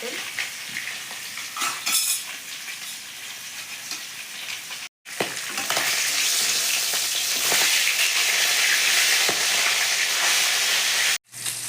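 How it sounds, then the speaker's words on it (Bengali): Mustard oil heats and fries in a wok for a Bengali-style prawn dish, a steady close sizzle and crackle that grows denser and louder after a short break, with occasional utensil clinks. "তেল গরম হয়ে গেছে"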